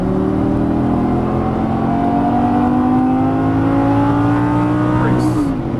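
A Lamborghini Gallardo LP 550-2 accelerating hard on a race track, its engine climbing steadily in pitch through the gear, close and loud, with an upshift near the end and an instructor's voice faintly underneath.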